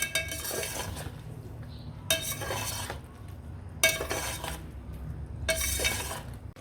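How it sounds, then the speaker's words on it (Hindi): A spoon scrapes and clinks through sweet zarda rice in a pot, in Pakistani degi zarda style. Four distinct scraping bursts of stirring come at roughly regular intervals over a low steady background hum, close to the listener. "अच्छे तरीके से आपने इसको कर लेना है मिक्स।"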